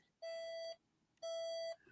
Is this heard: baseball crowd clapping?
no